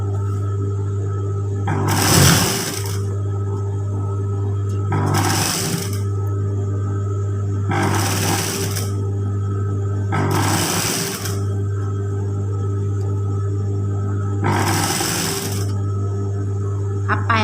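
A sewing machine stitches close to a folded fabric edge in five separate bursts of about a second each, with a steady motor hum running between them.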